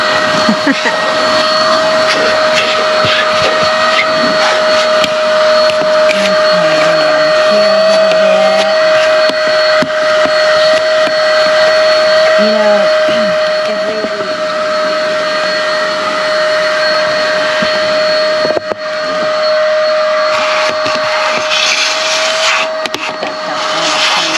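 A household vacuum cleaner drones loudly and steadily throughout, a constant close motor whine with a strong tonal hum and occasional shifts in pitch as it moves over the floor.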